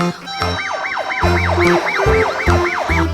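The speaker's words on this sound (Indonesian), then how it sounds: "ternyata mobil pemadam kebakaran" A fire truck siren sweeps rapidly up and down in a repeating yelp, loud and close, with rhythmic background music thumping underneath.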